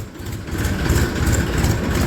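A Sonalika tractor engine idles with a steady low, rumbling throb, fairly loud and close, holding an even level throughout with no talking.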